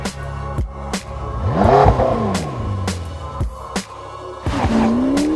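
McLaren 650S supercar engine revving on the road, rising and falling in pitch as it accelerates, with sharp gear-change breaks and a close, loud, continuous engine note.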